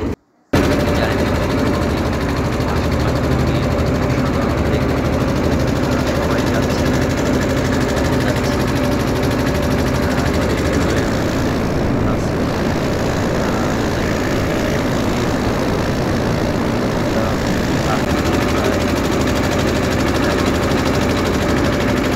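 A trawler boat's engine runs continuously at close range, a loud, steady mechanical chugging drone with a constant tone that holds throughout after a brief silent start.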